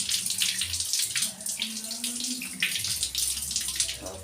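Tap water runs steadily into a sink while brass pooja utensils are washed, with clinks and splashes of handling over the continuous close stream.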